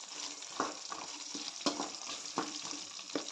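Hyacinth beans (avarekalu) frying in a pan for sambar, a continuous close sizzle punctuated by regular clicks and scrapes of stirring, with no talking.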